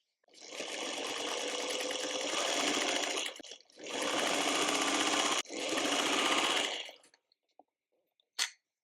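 A sewing machine stitches quilt block fabric units together in three long continuous runs with brief pauses between, steady and close, followed by a couple of faint clicks and a short sharp knock near the end.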